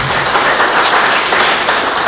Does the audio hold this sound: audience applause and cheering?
yes